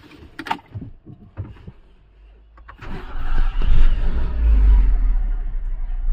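A Renault Scenic 3 with a 1.4 TCe petrol engine cranks and starts after a few faint clicks, then settles into a low, steady, close idle hum.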